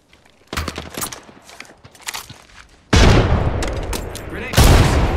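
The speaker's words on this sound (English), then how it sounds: "I am taking fire, friends." Gunfire in the video game Apex Legends during a ranked arena match: scattered shots early, then from about three seconds a loud, dense burst of rapid fire that swells again near the end.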